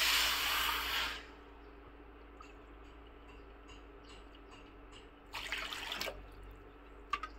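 A quiet stream of water pours briefly at the start, then a second short pour a few seconds later, ending with a small clink.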